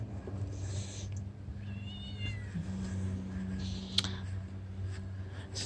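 A cat meowing inside a greenhouse on a homestead, a few rising and falling meows near the start and middle over a low steady background hum, with no talking.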